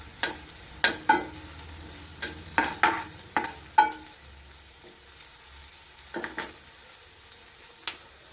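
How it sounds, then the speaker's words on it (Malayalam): Curry leaves frying in hot oil in a pan for a Kerala jackfruit seed stir-fry, with a run of sharp clattering stirs and spatter bursts over a soft steady sizzle that quiets midway before a few late taps. "ജസ്റ്റ് മൂത്ത് കഴിയുന്നൊക്കെ കരിവേപ്പിലയും കൂടെ ഇട്ട് കൊടുക്കാം"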